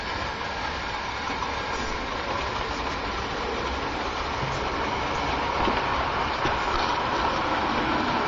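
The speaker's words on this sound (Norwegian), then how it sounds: "Nå kommer det tog der" An arriving train rumbles steadily nearby, a broad engine drone with rail noise that grows slightly louder toward the end.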